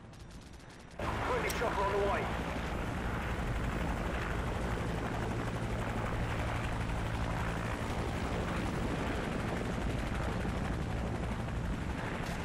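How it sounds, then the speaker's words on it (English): Helicopter in Call of Duty: Modern Warfare 2 multiplayer on the Fallout map, a steady loud rotor roar that starts abruptly after a second and runs throughout, mixed with gunfire and other game noise. "Chopper on the way."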